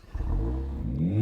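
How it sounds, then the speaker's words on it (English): Mercedes-AMG A45 S four-cylinder engine catching and revving, a short burst where the note climbs quickly after the start, loud and close with no voices. "Go on, start the Mercedes."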